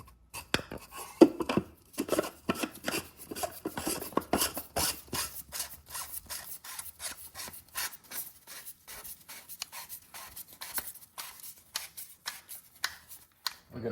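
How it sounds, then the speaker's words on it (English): Porsche Cayman oil filter housing turned onto its threads by hand, giving a run of dry scraping, ratcheting rasps and light clicks, close and fairly quiet, steady through the stretch with no talking. "Now we're going to want to reinstall the filter housing and get it started by hand."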